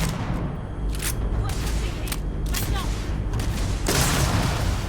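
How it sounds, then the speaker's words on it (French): Gunfire during a Starfield firefight, a dense, continuous crackle of shots and bursts under a steady noisy background, with a louder wash near the end. "il tire dans ton dos là"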